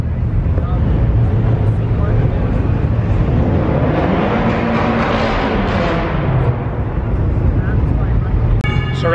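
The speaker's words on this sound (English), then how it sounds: "If everyone would stop revving, I could probably explain myself more." Car engines rev loudly at an indoor car show, a thick continuous roar that swells and falls as throttles open and close, with a short honk-like tone at the end.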